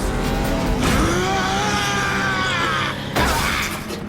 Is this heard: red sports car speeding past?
yes